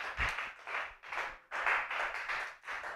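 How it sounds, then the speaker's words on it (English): An audience at a Superlife Nigeria live event claps for Team Nigeria, a steady run of dense applause surging in waves with brief dips between bursts, close and full. "Put your hands together for Team Nigeria."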